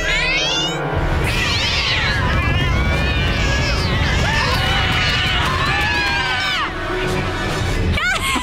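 A crowd of cartoon cats released by catnip meows and yowls loudly and continuously in overlapping, rising and falling cries, filling the scene up close.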